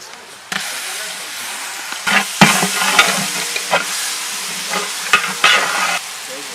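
Onions fry and sizzle loudly in a pan over a wood stove for a mushroom biryani, with sharp scraping stirs that come irregularly against a constant hiss.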